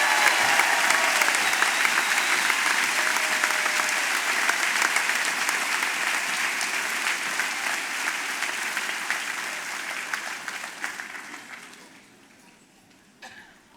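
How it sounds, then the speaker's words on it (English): Sustained applause from a high school graduation audience honoring the class of 2019, loud and steady from the start, then fading over the final seconds until the clapping dies away. "Let's give one final round of applause to the graduates"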